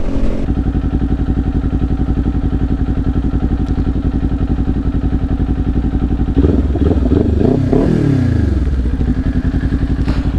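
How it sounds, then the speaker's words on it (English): 2021 Kawasaki Ninja 400 two-cylinder motorcycle with a Leo Vince LV10 slip-on exhaust, loud close steady idle thrum that swells into a brief rev, with no talk. "I just got a Leo Vince LV10 slip-on this bike. I mean, it sounds all right."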